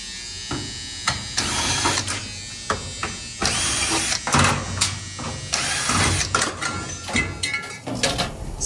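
Maytag top-load washer with an off-balance fault, spinning with irregular thumps and clattering bursts over a whirring motor, the knocking repeating unevenly.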